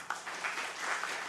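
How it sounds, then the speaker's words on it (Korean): Congregation in a Baptist church service clapping together in a steady, moderately distant burst of applause, with no voices over it. "여러분에게 감사 인사를 드릴 때 힘찬 응원의 박수를 부탁을 드립니다"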